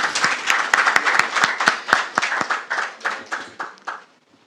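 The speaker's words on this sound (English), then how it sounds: "Another round of applause, please." Applause from an audience after a presidential address, with loud, distinct claps in a brisk, uneven rhythm that gradually thin out and fade to silence near the end.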